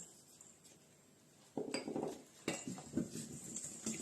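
Eggs and sugar being stirred in a bowl for kefir pastry dough, heard as quiet clinking and scraping of a utensil against the bowl that starts partway through and repeats in short, uneven bursts, close by.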